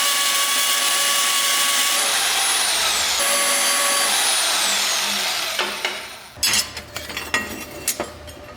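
A power tool cuts a 10-degree angle in metal while an abandoned LS-swapped FC RX7 is being built. A steady, loud whine runs for several seconds and then winds down, followed by scattered clanks and knocks.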